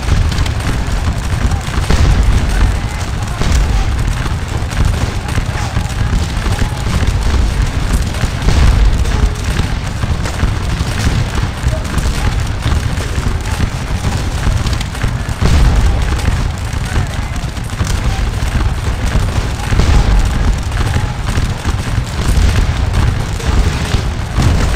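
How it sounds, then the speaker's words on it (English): Napoleonic infantry line firing in the Scourge of War: Waterloo strategy game, a sustained dense roar of musketry and booming cannon with crackling volleys, loud and continuous for the whole stretch under a speaking voice. "so I face their line towards them and open fire"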